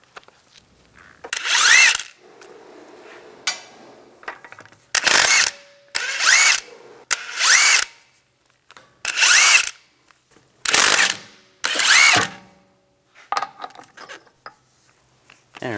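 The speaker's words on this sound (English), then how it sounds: "Take the lug nuts off." Power tool with a 22 millimeter socket spinning lug nuts off a Cadillac SRX rear wheel, a series of about seven loud whirring bursts separated by pauses, with faint clinks and handling noise between.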